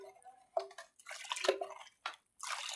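Sattu flour being stirred into water for a sweet summer sharbat, with a few irregular liquid sloshes and clinks in a bowl, close and fairly quiet, pausing between bursts.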